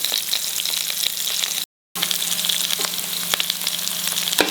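Chopped onions and garlic fry steadily in a pan over medium flame, a continuous close sizzle with scattered scraping stir clicks, briefly cut to silence midway before the frying resumes at the same level.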